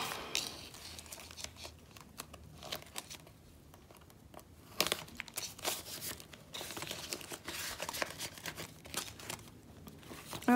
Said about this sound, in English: So let's put this in the envelope.